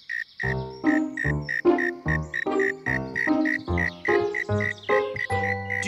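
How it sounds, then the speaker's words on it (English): A cartoon cricket from Bananas in Pyjamas clicks in a fast, even series of about a dozen bright, ringing chirps, loud and close, with no talking over them. "Click, click, click. It is click, click, but it's not click, clack."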